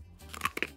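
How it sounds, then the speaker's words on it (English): A few crisp crunches of sesame sweet potato sticks being bitten and chewed, close and fairly quiet, two distinct bites within under a second. "That is a very pleasant crunch."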